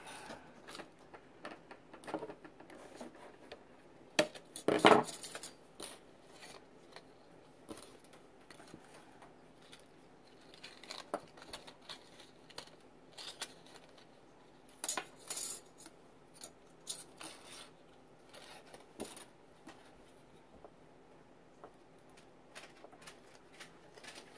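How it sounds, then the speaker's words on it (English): Scissors cutting pieces of material for a decorative e-cig wrap: faint, close snips and crisp cutting sounds scattered over quiet, with one louder cluster of snaps and several lighter cuts and rustles later. "So let's cut our first one."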